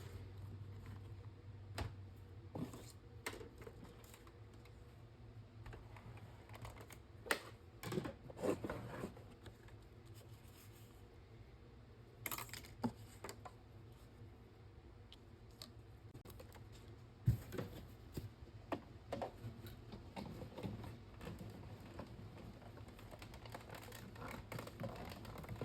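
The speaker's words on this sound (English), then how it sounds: "we'll die cut that" A manual die-cutting machine rolls a card-making die through its plates, giving a quiet, irregular run of clicks, ratchets and mechanical ticks against a faint background, with no talk.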